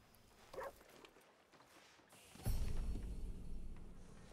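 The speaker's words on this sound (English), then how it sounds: "Oh! Horse rearing!" A horse rearing in the video game Red Dead Redemption 2, with a brief snort early on, then a heavy thud and low rumbling hoof movement, fairly quiet.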